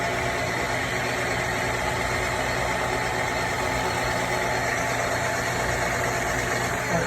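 A metal lathe takes a finishing cut to bring a part to diameter, giving a steady droning hum with a continuous mechanical whine throughout and no speech.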